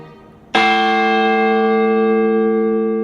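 A single loud strike of the Maury County Courthouse clock tower bell rings out close by, its rich tone sustaining and slowly fading over several seconds.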